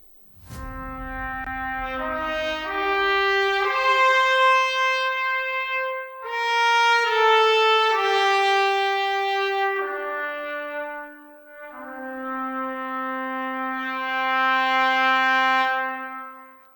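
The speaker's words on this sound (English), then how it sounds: "the cinematic studio brass solo trumpet sounds like this." A sustained, brassy Cinematic Studio Brass solo trumpet sample line rises and falls through long held notes over a low thump at the start, smooth and resonant with roomy reverb.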